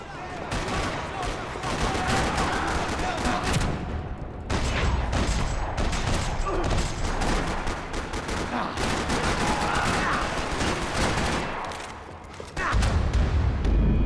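Sustained gunfire rattles through a parking lot in the Max Payne video game, dense overlapping shots and bursts nearly continuous and loud, with a brief lull near the end before firing resumes.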